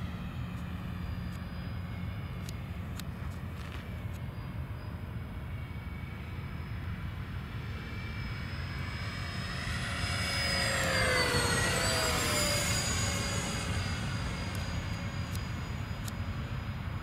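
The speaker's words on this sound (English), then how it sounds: "And there's the chase plane." Chase plane accompanying an A-10 and F-16 flying past outdoors, a steady engine drone that swells and sweeps in pitch as it nears and passes, then eases off.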